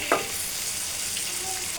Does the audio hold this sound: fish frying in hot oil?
yes